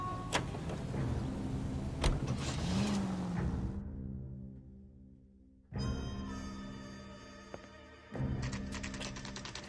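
A car drives in the video game L.A. Noire, a quiet engine hum with a rising whine and thuds, cutting out briefly into near silence before the engine returns; no speech.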